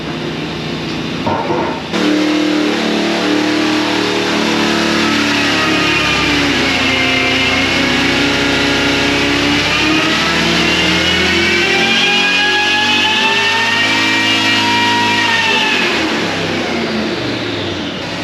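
Supercharged 502 big block V8 with a blower and high-rise intake, pulling hard on a dyno: a loud, continuous engine roar climbing steadily in pitch for about fifteen seconds, then easing off, close and alone.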